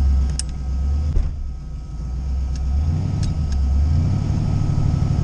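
A Fox Mustang with a swapped LS 5.3 V8 rumbles low and steady while driving slowly around the block, with a brief dip in engine tone partway through and a few faint clicks over the deep drone.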